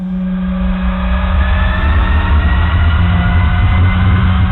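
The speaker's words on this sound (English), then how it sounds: "You can hear the tires screaming against the salt." Car tires scream against the salt flats as Donald Campbell's speed record car races at very high speed, a loud, steady, continuous roar with a droning engine tone and no talking.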